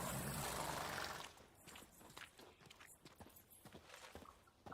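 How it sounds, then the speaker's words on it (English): Horses in the video game The Witcher 3 clop their hooves in soft, irregular steps after a loud rushing burst at the start, with no voices over them. "Gotta calm all the horses before they wake the guards."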